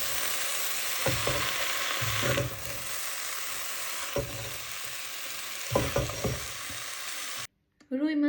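Onions sizzle steadily in a pan, a loud broad hiss with several scraping stirs along the way, until the sound cuts off abruptly and a brief voice is heard at the very end.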